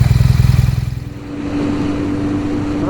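A 2022 BMW R NineT Pure motorcycle engine runs nearby, a loud pulsing rhythmic thrum that eases off partway and settles into a steadier, smoother idle hum.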